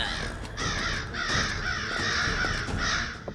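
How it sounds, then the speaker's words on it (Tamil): Several crows caw repeatedly in harsh, overlapping calls, fairly close and loud, with a steady outdoor background beneath and no talking. "இந்த காக்காவெல்லாம் வெளியில விரட்டு."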